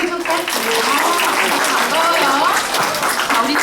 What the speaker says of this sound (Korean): 우리 모두 우리 친구들 환영하는 박수 한번 쳐볼까요